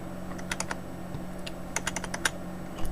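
Computer keyboard keys are pressed while working in a file manager, a scattering of crisp clicks in irregular bursts, close against a low steady hum, with no talking.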